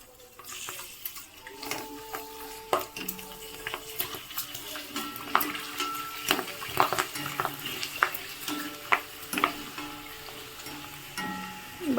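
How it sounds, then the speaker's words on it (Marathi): Papads, including bhindi and tube-shaped ones, fry in hot oil with bursts of crackling sizzle and sharp clinks of utensils against the pan, close by and uneven in rhythm. "मस्त असे पापडे तळून रेडी होत आहेत"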